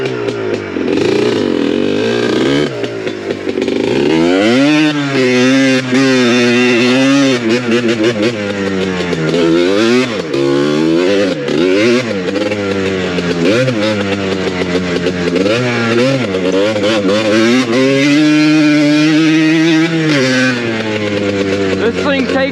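A Yamaha Blaster ATV engine revs repeatedly while being ridden, a close, buzzing two-stroke note rising and falling in pitch throughout, steady and loud.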